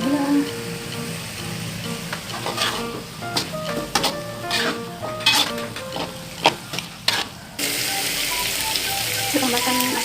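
Sambal for sambal pete is stir-fried with sugar in a pan: a steady close sizzle with repeated spatula scrapes and clinks, louder toward the end, while a voice talks over parts of it.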